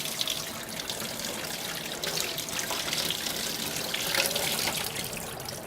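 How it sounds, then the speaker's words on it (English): Tap water runs steadily over tomatoes in a sink full of cold water. The stream makes a continuous, close splashing hiss with no talking. "We'll just let water run over it."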